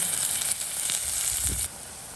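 Curry leaves sizzle in a hot frying pan, a bright crackling hiss with a few sharper pops, then the sizzle drops to a quieter steady fizz toward the end.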